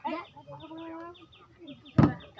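A live chicken clucks close by in a few short calls, followed by a sharp louder squawk near the end, amid a noisy outdoor game setting.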